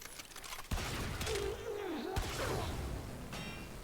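Gaze Kitgun fire in a video game comes as a quiet burst of rapid, crackling shots over muffled game effects, with a brief rising tonal whine in the middle.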